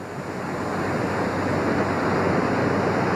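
A storm sound effect from a radio drama, a steady, loud roar of wind and rushing water, like surf, that swells slightly and holds without breaks.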